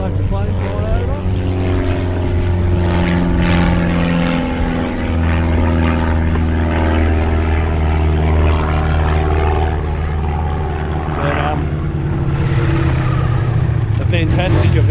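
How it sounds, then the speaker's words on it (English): A local propeller plane drones overhead at the Mugello MotoGP event, a loud, steady engine hum that fills the whole stretch with slight shifts in pitch. "Local plane flying over."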